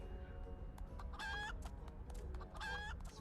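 Cartoonish chicken clucks and squawks in two short bursts over a low rumbling soundscape in the video game Final Fantasy XIV: A Realm Reborn, fairly quiet overall.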